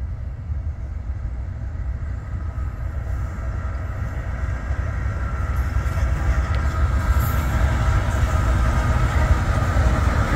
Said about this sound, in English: we got our first train for the day going down track 4